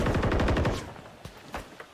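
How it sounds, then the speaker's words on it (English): Rapid automatic gunfire from a Call of Duty League match rattles loudly in a dense burst for most of a second, followed by a few sparser, quieter shots. "Couple of gunshots rattle out."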